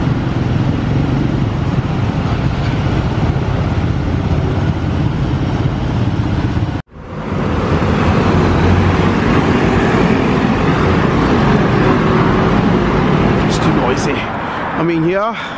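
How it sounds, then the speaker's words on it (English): Street traffic in Taiwan, heavy with scooters, roars loudly and continuously as engines drone past nearby; the noise cuts out abruptly for a moment midway, then resumes just as dense, with a few faint higher tones near the end. "it's just so loud when it comes to the scooters"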